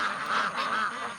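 Ducks and geese on a pasture under rotational grazing quack and honk in a steady, overlapping chorus, moderately close and fairly loud across the short stretch.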